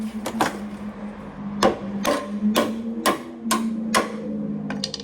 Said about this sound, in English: Just tap it with the hammer real quick.